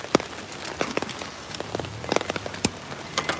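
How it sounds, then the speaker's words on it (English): Rain falling on a street in Singapore's Katong and Joo Chiat area, a close, steady patter with scattered louder drops and splashes, no talk. "Man, the rain!"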